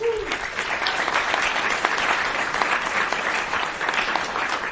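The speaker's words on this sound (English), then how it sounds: "so please give them a round of applause" Audience applause fills a convention panel room at San Diego Comic-Con, a steady dense wash of clapping that carries on evenly for several seconds after a brief voice at the start.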